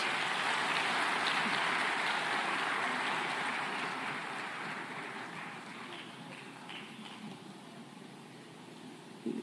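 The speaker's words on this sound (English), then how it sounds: "let's give them a fantastic round of applause" Audience applause at Africa's Food Systems Forum 2023, steady and dense from the start and slowly thinning toward the end, heard alone without speech.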